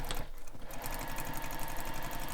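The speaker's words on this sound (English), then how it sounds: "I'm back stitching at my corners just to help strengthen them" A sewing machine backstitching the corners of a soft vinyl messenger bag, a fast steady run of needle strokes with a brief slowdown near the start, faint and close.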